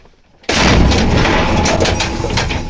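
An artillery gun of the Black Zaporozhians unit fires a single loud, close blast that is heard alone after a quiet moment, followed by a long rumbling, ringing decay.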